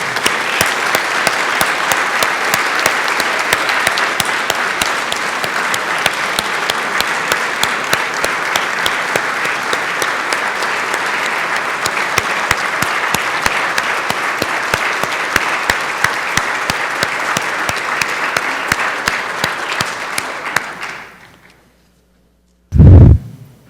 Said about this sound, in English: if you join me in round of applause